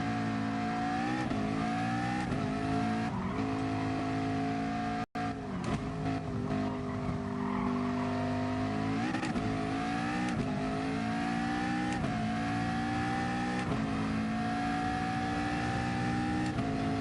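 Mid-engine rear-wheel drive race car in Gran Turismo Sport, its engine droning continuously and climbing in pitch through repeated gear shifts, with faint tire noise and no talk.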